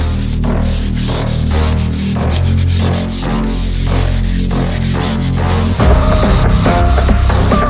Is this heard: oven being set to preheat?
no